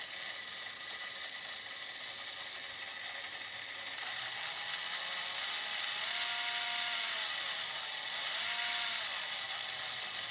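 A Forte IDR-10000 voltage stabilizer under load gives a steady high-pitched electrical whine and buzz that rises in intensity, with warbling tones sweeping up and down as the strain increases.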